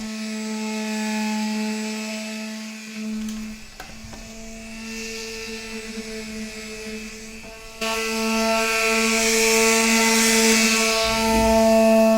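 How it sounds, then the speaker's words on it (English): Power sander smoothing a wooden virtual pinball cabinet, giving a steady droning electric whine with a few brief scuffs, growing louder and rougher partway through. "I'm just gonna sand that back real quick"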